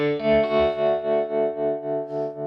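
An overdriven electric guitar sustains a chord through a Carr Bel Ray amp, its volume pulsing in a steady tremolo wobble, about four throbs per second.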